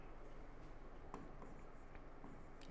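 Chalk or marker scratching across a board during a Hindi physics lecture on electric charge, soft and intermittent strokes over a steady room hiss, no talking.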